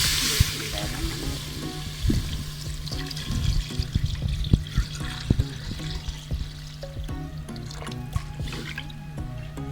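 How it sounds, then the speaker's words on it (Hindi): Water pours and splashes into a metal pressure cooker while cooking chicken, with dripping and trickling sounds continuing over faint background noise. "जी जनाब, ये अब मैं पानी डाल रही हूँ।"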